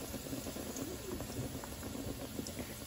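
Jaggery syrup boiling in a pan, heard as a steady close bubbling and popping texture that continues without pause, with no voices.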